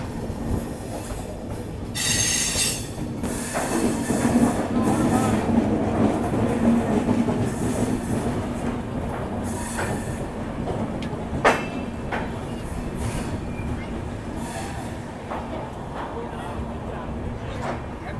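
Bihar Sampark Kranti Express rolling into Kanpur Central on a curve, with a steady loud rumble of wheels on rails, rhythmic clicks and occasional squeals from the wheels, and faint voices in the background.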